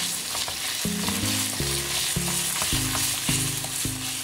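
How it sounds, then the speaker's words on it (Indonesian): Minced meat stir-fried in a pan while a spoon breaks it apart, giving a steady close sizzle and crackle with scraping stirring strokes throughout. "Daging cincangnya kita pisah-pisahkan dengan sendok agar matangnya merata."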